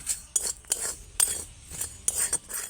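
A spatula scrapes and clinks against a pan while stirring and frying a dried amla (Indian gooseberry) mixture until it darkens. The sharp metallic strokes come in an irregular rhythm with quiet gaps between them.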